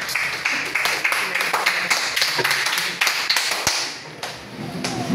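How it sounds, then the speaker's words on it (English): A school symposium audience applauds to welcome a speaker, a steady patter of many hands clapping at close range for several seconds before fading near the end. "Let us give a round of applause"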